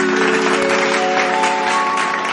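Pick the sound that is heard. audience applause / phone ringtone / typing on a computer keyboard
audience applause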